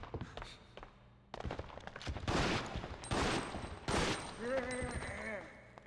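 Gunfire in a Resident Evil game: a string of loud, sharp shots bursting in quick succession over several seconds, with clanks and thuds between them and a short rising tonal effect near the end.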